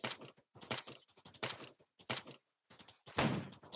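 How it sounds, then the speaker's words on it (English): Arma 3 gunfire arrives as a series of sharp, choppy bursts separated by brief silences, with one heavier, louder shot near the end; the shots are close and fairly quiet overall. "They're shooting. Open fire."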